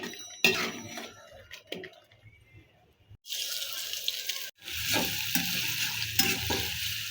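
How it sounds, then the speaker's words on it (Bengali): Chopped onion and garlic frying in hot oil in a wok, prepared as a tempering for dal with mango and drumstick, give a steady loud sizzle after a few scattered clinks and quieter kitchen sounds. "একটা কড়াইয়ে তেল গরম করে তাতে পেঁয়াজ আর রসুন কুচি দিয়ে"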